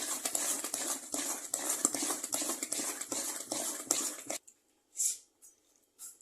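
Millet appam batter being mixed in a bowl, with steady scraping and clinking strokes for about four seconds, then near silence apart from a couple of faint brief touches.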